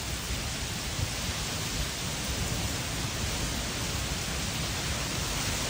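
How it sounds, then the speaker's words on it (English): A heavy, steady downpour during a hurricane in Mexico roars as a dense hiss that fills the air without a break, loud and unchanging throughout, with no voices. "It is raining so hard"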